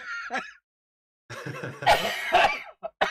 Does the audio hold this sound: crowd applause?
no